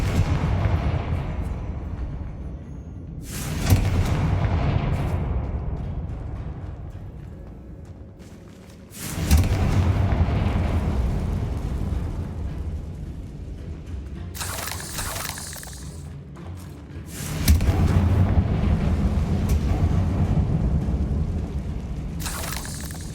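Explosive spell blasts in a Hogwarts Legacy battle: three or four heavy booming bursts with rumbling, crackling tails, spaced several seconds apart over a steady low background din.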